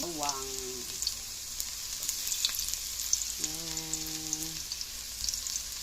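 Garlic sautéing in a pan for a Filipino mung bean dish with sardines, a continuous soft sizzle and crackle, joined by brief tonal bursts of speech-like sound near the start and middle.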